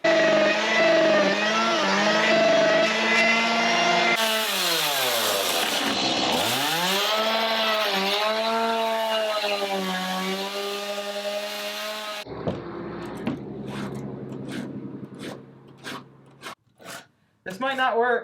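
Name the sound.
small chainsaw cutting wood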